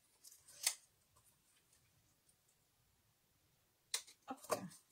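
Scissors snip paper pieces for a handmade card, with one sharp cut early and a quick cluster of crisp snips near the end, close and quiet against near silence.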